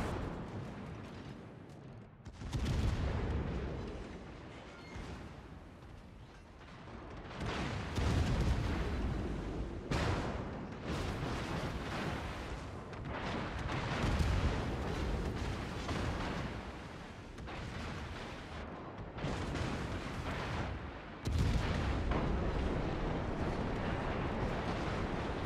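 Naval artillery fire from a Tier X American cruiser, the USS Des Moines, in the video game World of Warships: repeated heavy booming salvos with rumbling tails, arriving in irregular bursts one after another over a continuous low background.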